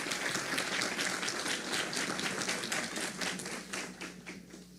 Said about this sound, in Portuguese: Uma salva de palmas aí para todos vocês.